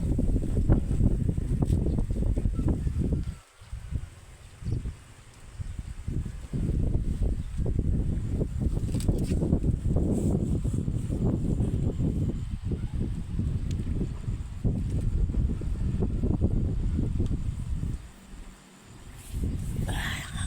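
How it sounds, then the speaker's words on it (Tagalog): Strong, cold wind in an open farm field buffets the microphone in steady, loud gusts, with a couple of brief lulls. "Sakit sa ulo. Sobrang hangin."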